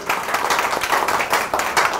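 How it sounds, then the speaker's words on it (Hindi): Audience applause at a Hindi public-speaking talk, dense steady clapping from many hands filling the whole stretch with bright crackling texture, loud and close with no voices over it. "तालियां जरा जोर से बजाइए."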